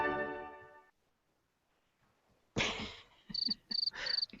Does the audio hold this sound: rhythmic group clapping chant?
no